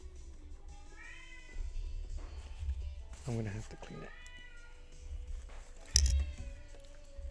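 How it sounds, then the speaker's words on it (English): A pet cat meows several times, with short, wavering, rising-and-falling cries close by, mixed with quiet talk and some handling noises. "My cat's going nuts."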